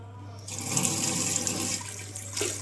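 Steady water spray from a handheld toilet bidet hose in a Kuala Lumpur restroom, a close, continuous rushing hiss that runs without a break for a few seconds.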